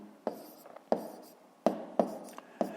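A pen or pencil writes numbers by hand on paper, five or six sharp taps and short scratchy strokes spaced irregularly, close and fairly quiet, with no talking.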